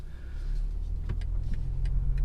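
A 2019 BMW 330i accelerates in sport mode, its engine a steady low drone heard from inside the cabin that builds gradually in loudness, with faint higher mechanical whirs.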